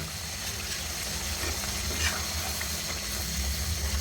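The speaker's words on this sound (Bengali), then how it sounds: "এখন আমি অল্প একটু জল অ্যাড করে দেব মাংসটা সিদ্ধ হওয়ার জন্য" Chicken frying with spices in a pan as a little water is added for simmering, a steady broadband sizzle that holds evenly throughout with a faint brief splash near the middle, no talking.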